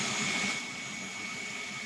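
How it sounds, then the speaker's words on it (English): A vacuum cleaner runs during a fog generator block replacement, giving a steady, loud airy whine and rushing hum with no talking. "I've got a vacuum cleaner here too. I'm going to run real quickly"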